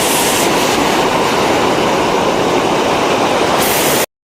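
A train rumbles over the bridge at Dudhsagar waterfalls during the monsoon, a loud, continuous roar of wheels and carriages with rushing water beneath, filling the scene until it cuts off abruptly.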